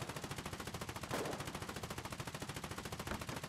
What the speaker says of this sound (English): there's a couple more shots over here